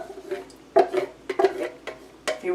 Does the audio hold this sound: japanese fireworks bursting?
no